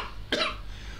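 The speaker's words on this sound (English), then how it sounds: "me saying what made me cough" A single sharp cough bursts out close by near the start, short and clear over quiet background noise, while playing the football management game Championship Manager 01/02.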